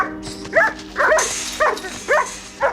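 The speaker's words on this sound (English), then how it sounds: "that dog put in the performance of a lifetime there" A dog on a TV episode gives five short, whimpering yelps in an even rhythm, loud and close, over a low steady background hum.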